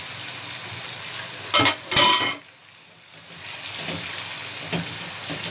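Small pieces of chicken breast hitting hot oil in a pan, with a couple of sharp clattering sizzles followed by a steady, moderately loud frying hiss.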